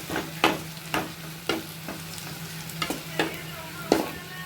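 Small onions sautéing in a pan, with a spoon scraping and tapping at a steady rhythm over a soft, continuous sizzle and a low background hum, close by and without any voices.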